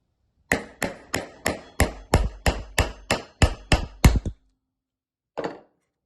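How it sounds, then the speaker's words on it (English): A dozen sharp metallic hammer blows strike a punch in a steady rhythm while pounding out a part of an Ergotron Workfit-S standing desk, then a pause and one final strike, close and loud with no talking. "I'm just going to use a little punch and a hammer"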